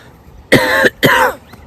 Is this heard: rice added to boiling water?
no